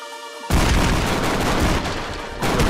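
A sudden loud explosion from the video game Expendabros bursts in after a quieter stretch of game sound, followed by a sustained roaring rumble of blasts and gunfire.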